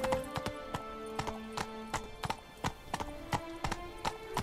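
Roach, the horse in The Witcher 3, gallops in quick, regular hoofbeats that sound close and steady, with a faint musical tone running underneath.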